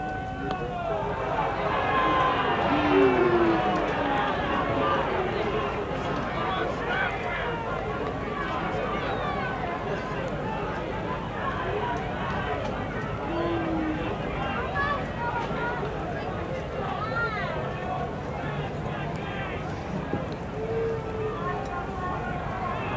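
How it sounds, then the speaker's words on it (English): A cricket crowd at Adelaide during a 1976-77 Pakistan versus Australia Test, a steady distant murmur and chant of spectators under continuous broadcast commentary, with occasional whistles and calls rising from the stands. "Crowd are calling for runs"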